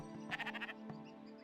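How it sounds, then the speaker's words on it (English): A quiet, short bleat comes from a sheep in the video game Oaken: a few quick wavering pulses, then a small blip, set over a low steady hum. "There's a sheep here."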